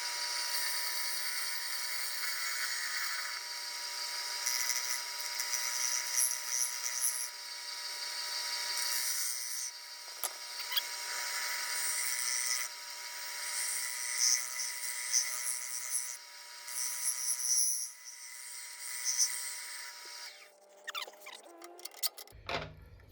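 A tool shear-scrapes a cherry wood bowl spinning on a lathe, a continuous close whirring hiss with a fine rasping edge that swells and dips steadily for about twenty seconds, then drops off as the lathe winds down.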